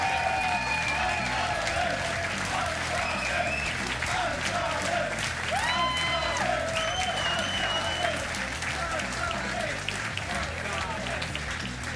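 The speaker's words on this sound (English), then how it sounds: "So clap your hands together for the one, the only PINKROID." An audience applauds at a Summoners War esports cup event in Europe, a dense, continuous wall of clapping that holds steady and loud, with cheers and a voice rising over it throughout.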